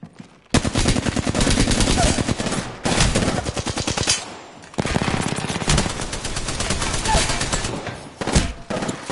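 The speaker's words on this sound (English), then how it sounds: "Getting shot at." Rapid automatic gunfire in the battle royale video game Apex Legends, loud sustained bursts with brief pauses, close and dominant, with a player talking faintly underneath.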